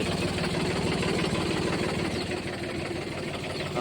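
A Mahindra B 295 tractor engine idles steadily at close range, a low, even rumble with a faint knocking pulse and no voices.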